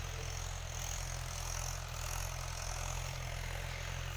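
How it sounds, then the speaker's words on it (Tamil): Tractor engine running in a farm field during sowing, a steady low droning hum with even pulsing, continuous and moderately distant, no voices. "அங்கே டிராக்டர் ஓடுது."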